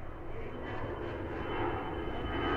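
Steady broadband airplane cabin drone heard in flight, a continuous low engine roar that holds at an even level from start to end with no other distinct sounds.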